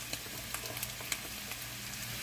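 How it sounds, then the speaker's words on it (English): Potatoes cook in oil in a pan, giving a faint, steady sizzle with a few soft pops and clicks, close by and quiet, with no voices. "I'm just going to coat them all with the oil and let them cook for about 10 minutes"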